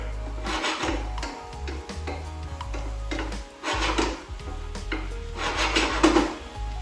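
Honey balsamic mushrooms mixed in a pan, with steady scraping and rubbing strokes of a utensil against the pan surface repeating in bursts, close and moderately loud, no voice.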